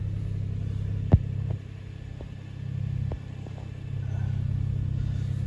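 A 2010 Lexus RX 450h with about 300,000 kilometers idling after startup, a low steady rumble close by with a sharp knock early on and small swells in level.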